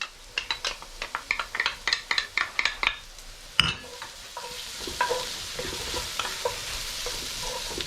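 A run of quick, sharp utensil taps and clinks against a pot, then a louder clatter as garlic goes into sautéing onions, followed by continuous close sizzling with scattered scrapes.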